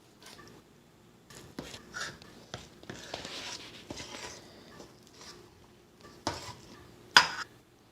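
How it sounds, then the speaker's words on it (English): A spoon scoops twice-baked potato filling from a bowl and presses it back into baked potato skins, giving soft scraping strokes and several light clinks against the dish, close up with no voices. "grab out a scoop, just put it right back into the potato skin"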